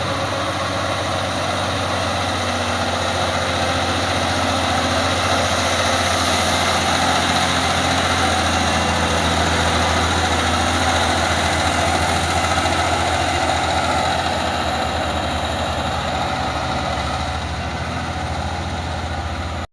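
A tanker truck's engine idles steadily at the foot of a hill climb at Bukit Kodok, a continuous low rumble with vibration that holds close and loud for the whole stretch.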